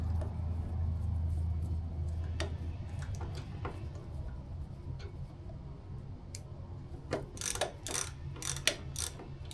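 Tightening the fork top clamp bolt on a Suzuki GSX-R 600 K4/K5: scattered metallic ratchet clicks and small taps, close and fairly quiet over a low background hum, growing busier toward the end.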